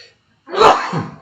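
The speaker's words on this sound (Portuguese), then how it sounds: "Perdão, um espirro." A single sneeze bursts out after a moment of silence, sharp and close, trailing into a short breathy release.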